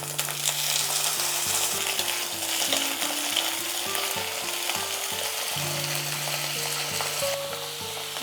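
Chopped brinjal (eggplant) pieces fry in a few spoons of hot oil in a kadai, a steady close crackling sizzle with clinks and stirring knocks throughout.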